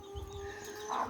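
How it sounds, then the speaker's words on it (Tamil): A hen clucks softly in a rural backyard, a few short low calls and a brief higher squawk, faint and close with no voices. "சில கோழிங்க சவுண்டு கொடுத்துரும்"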